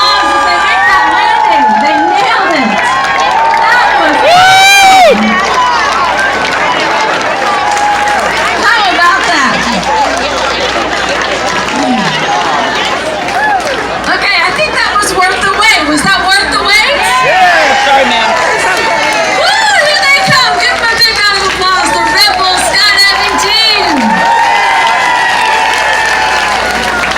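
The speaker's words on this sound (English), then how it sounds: "Big round of applause as they make that landing." Beach crowd at a sand sculpting festival cheering, whooping and clapping as parachutists land, loud and sustained throughout, with excited shouts and children's voices mixed in and someone talking over the noise.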